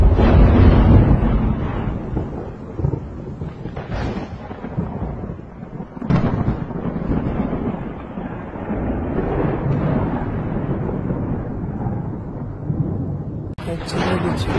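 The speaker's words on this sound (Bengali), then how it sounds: "বৃষ্টির পাশাপাশি দেখেন কিভাবে বজ্রপাত হচ্ছে।" Thunder rolls through heavy rain during a tornado over a wetland in Tangail, Bangladesh, making a loud, continuous low rumble with sharper cracks now and then under steady rain noise.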